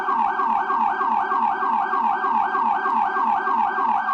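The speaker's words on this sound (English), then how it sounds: "one thing that you can't hear over the siren in this video" Emergency siren wailing loud and steady in a rapid repeating up-down cycle, filling the whole clip with no talk over it.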